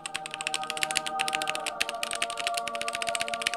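Rapid, continuous typing on a clacky mechanical keyboard, close up, with a steady stream of sharp key clicks and no talking.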